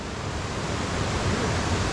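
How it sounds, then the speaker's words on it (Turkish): Waterfall in Horma Canyon, Turkey, a steady broadband rush of falling water heard from a cliffside walkway above the gorge, loud and continuous with no talking. "akan kanyonun tam da şelale kısmını göstereceğim"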